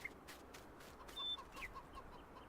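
Free-range chickens in the video game Farming Simulator 19 cluck softly in scattered short calls over a quiet farmyard background, with one brief higher chirp midway.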